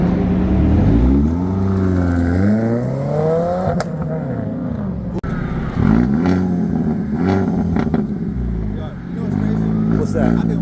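A car engine revs and pulls away at a Sunday car meet, its rising and falling pitch sweeping up several times over about ten seconds, loud and close, with people talking over it.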